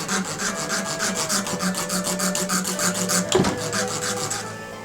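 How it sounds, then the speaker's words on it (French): A very fine metal file rasps across laminated wood in a steady, close run of rapid back-and-forth strokes, with a brief knock near the end and no talking. "c'est une lime ferraille très fine, donc ça relève pas la fibre"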